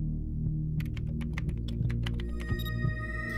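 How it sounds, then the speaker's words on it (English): Computer keyboard typing as a password is entered: a quick run of crisp, close key clicks over a low steady hum, ending with a final keystroke. "I finish typing out the third password and hit the enter key"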